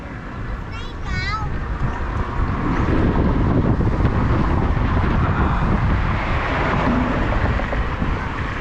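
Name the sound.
strong wind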